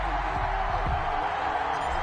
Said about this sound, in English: This crowd is ready as their guys get set to match up between the Pittsburgh Steelers and the Baltimore Ravens.